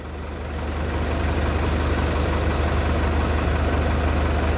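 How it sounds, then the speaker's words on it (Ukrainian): An agricultural premixer machine runs with a steady, loud mechanical drone and a low hum that swells slightly at the start and then holds level. No voices are heard over it. "наконец-то у нас преміксер нормально працює вже"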